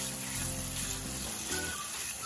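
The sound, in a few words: food sizzling as it cooks in the pan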